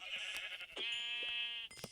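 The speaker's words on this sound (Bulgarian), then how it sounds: "овца." A Minecraft sheep bleats once in a long, wavering cry, close and clear, framed by a few short clicks and taps before and after.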